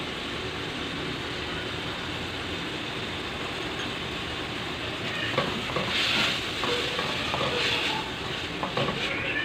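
Chicken frying in a pan with salt and black pepper gives a steady, close sizzle with scraping stirs that grow a little louder toward the end; no one speaks.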